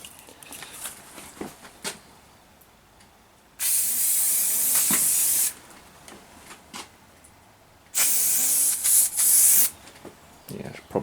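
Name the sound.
silicone spray being sprayed on a tyre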